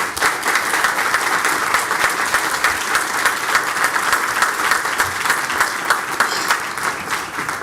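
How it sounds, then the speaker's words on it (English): A crowd at a county government meeting applauds steadily for several seconds, a dense, even clapping that fills the room with no voices over it. "Give her a round of applause, please."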